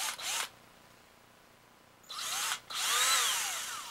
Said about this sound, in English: We drill into all the B marked bushing holes as straight as you can.